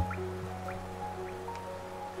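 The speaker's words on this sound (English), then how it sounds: "the rain pours down from cracks in the stone above" Rain dripping in a cavern city in Hollow Knight, soft water drops falling at a slow, even pace over a steady low ambient hum, faint and echoing.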